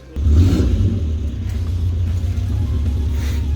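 A Toyota Corolla on a dyno holds a steady, loud, low engine rumble that starts abruptly and drones on without a break, with no voices over it.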